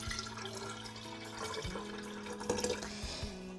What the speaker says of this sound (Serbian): Jako je bitno da sipamo hladnu, što je hladnije moguću vodu.